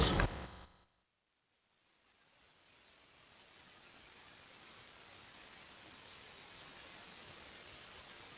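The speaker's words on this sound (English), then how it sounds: "I have now stopped the white noise that was on to afford a greater degree of privacy to defense counsel" White noise played in a courtroom for privacy during a break: a steady, even hiss that begins faintly after a short gap and slowly builds to a constant wash, with no speech over it.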